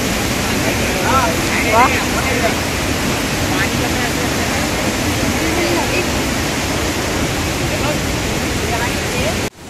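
Steady broadband roar of Kolatembhe waterfall at Bhandardara, with spray drifting close, runs unbroken throughout while a voice speaks over it briefly.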